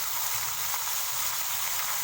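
Chicken added to a pan of hot oil for chicken pakora sizzles and crackles in a steady, even frying hiss without any talking.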